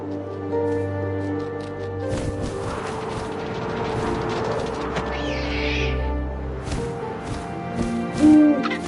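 An owl hoots within the game What Remains of Edith Finch, set against a steady bed of low wind and ambient tones, with a sharper sound near the close.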